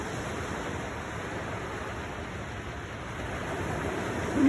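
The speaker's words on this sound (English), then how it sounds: "Look at that, coming right into the waves." Ocean waves wash steadily onto a Florida beach at sunset, a continuous broadband surf roar with little variation, rising slightly at the end, with no voices.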